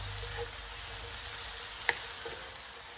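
Onions cooked down in plenty of leftover hamburger grease sizzle in a pan, a steady close hiss with one sharp pop near the middle.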